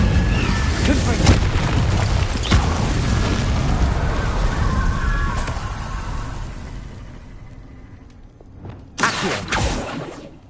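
Confringo blasting spell exploding in Hogwarts Legacy, a loud booming blast with rumbling decay that fades out, followed by a second sharp burst near the end; a voice is mixed in under the noise.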